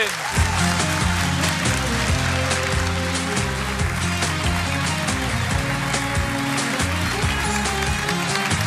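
Crowd applause for a singer at a live concert, a steady dense wash of clapping over held band chords, sustained throughout with no pauses.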